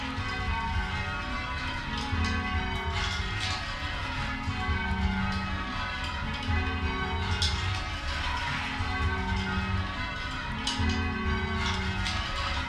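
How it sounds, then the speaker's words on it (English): Large church bells hung in a tower, rung by pulling ropes, chime continuously in changing patterns, a dense, steady wash of overlapping metallic tones with no voices. "Huge bells hang in the church tower, and ringers pull the ropes to make the bells chime in different patterns."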